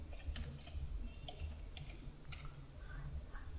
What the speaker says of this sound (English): I am typing the IP address of my system for secure authority